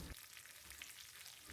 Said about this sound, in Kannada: ಈಗ ಇದಕ್ಕೆ ಸ್ವಲ್ಪ ಫ್ರೆಶ್ ಆಗಿರೋ ಕರಿಬೇವಿನ ಸೊಪ್ಪು ಹಾಕಿ ಒಂದು ಸಾರಿ ಎಣ್ಣೆಯಲ್ಲಿ ಅದೆಲ್ಲ ಫ್ರೈ ಆಗಂಗೆ ಕೈ ಆಡಿಸ್ತಾ ಇದ್ದೀನಿ.